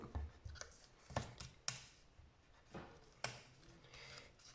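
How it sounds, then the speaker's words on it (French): Pencil marks being erased with an eraser on paper during a crafting job, heard as faint, short rubbing strokes in uneven bursts, close by and quiet with no voices. "Je vais gommer mon crayon."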